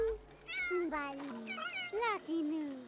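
A cat in The Sims 3 meows several times in a row, with drawn-out, rising and falling cries that sound close and clear.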